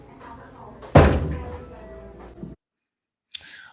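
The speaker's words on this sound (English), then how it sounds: "Here they go busting through my door." A door bursts open with one loud heavy slam, followed by a brief rumbling rattle, a smaller knock and a short sharp sound after a moment of silence.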